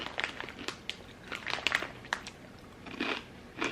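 Close, crisp crunching as someone bites into and chews Trader Joe's spicy rolled tortilla chips, lime-flavored like Takis, a run of sharp crackling bites over the whole stretch with no talking.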